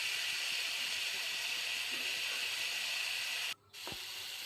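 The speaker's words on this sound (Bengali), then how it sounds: "দিয়ে আর একটু ভেজে নিলাম।" Boiled bamboo shoots frying in a spice masala give a steady, faint hiss and sizzle, broken near the end by a brief dip and a low thump.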